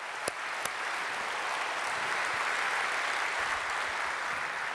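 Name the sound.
audience applause for public school teachers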